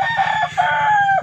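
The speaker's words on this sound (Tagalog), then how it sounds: "Ayan po yung manok niya, number 10" A gamefarm rooster crows once, loud and close, its call holding for just over a second with a slight break midway.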